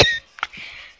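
A character coughs in an Arma 3 roleplay game, a short harsh cough followed by a couple of smaller throat-clearing bursts, close and brief.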